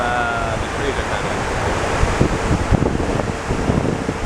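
Steady roar of a waterfall at a New York City memorial near Freedom Tower, a broad rushing wash that fills the whole clip, with faint talk and scattered bumps mixed in.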